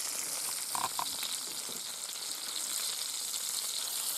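Sausage sizzles and crackles in a frying pan over steady heat, a soft continuous hiss with small pops, heard close and alone.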